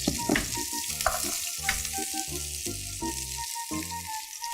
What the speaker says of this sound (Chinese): 然后加入姜片 跟洋葱，这我们要先把它给炒香了。